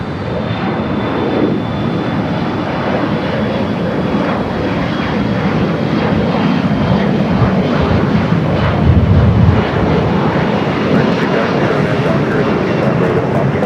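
A Delta Boeing 737-800 jet at Los Angeles airport produces a steady, loud engine rumble and roar that continues throughout with a slight surge, while a voice talks faintly underneath.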